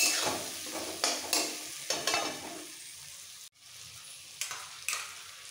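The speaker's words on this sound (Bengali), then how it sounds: "হলুদ গুঁড়ো, একটু মিক্সড করে ফেলবো।" Turmeric powder is stirred into frying katla fish curry with cauliflower: a series of close, rhythmic scraping strokes over a steady sizzle, pausing briefly before a few more stirs.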